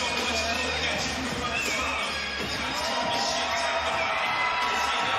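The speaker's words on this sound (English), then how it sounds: "Crowd is loud for Avalos. I could barely hear you." A loud arena crowd at a boxing fight night, roaring and cheering for boxer Avalos in a dense, continuous wall of noise with no breaks.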